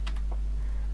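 Quick keystrokes on a computer keyboard while entering a password at a login screen, a short burst of a few clicks close by, then quiet.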